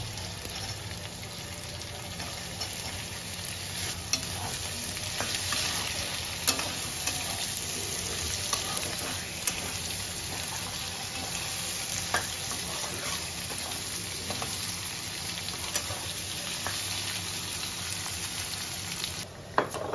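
Thick-sliced onions frying in a pan for chilli chicken, a continuous loud sizzle with occasional scraping stirs and clinks, steady throughout before a brief pause near the end.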